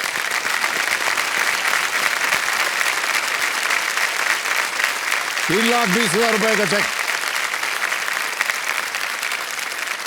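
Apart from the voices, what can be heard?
studio audience applause on quiz show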